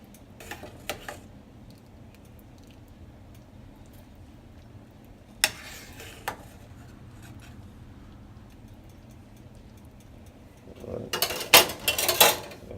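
A utensil stirs flour gravy in a pan, giving sparse scattered clinks and scrapes against the metal with a denser flurry of rapid scraping at the end, quiet in between.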